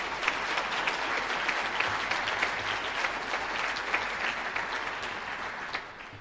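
Sustained audience applause fills a hall during a high school hall of fame ceremony, steady dense clapping from a large crowd that holds at full strength throughout before easing slightly at the end.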